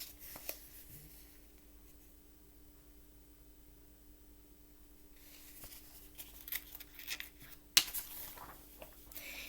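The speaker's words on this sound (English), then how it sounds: "You can draw a pretty picture." Pencil or pen scratching across paper while drawing, soft rubbing strokes that grow busier in the second half, close and quiet with a brief louder tap near the end.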